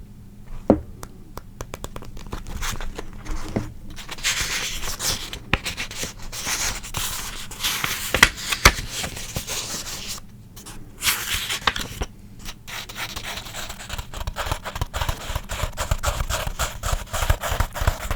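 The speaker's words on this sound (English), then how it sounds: "Do some page scratching" Fingers scratch and rub across manga pages up close, a dry papery rasping in quick strokes that come and go with short pauses.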